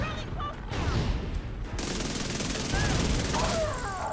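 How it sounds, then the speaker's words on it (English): Video game gunfire from The Division 2 hitting the player, loud rapid bursts of automatic fire and impacts crackling through most of the stretch, with a dense, continuous barrage in the second half. "I'm getting shot in the back."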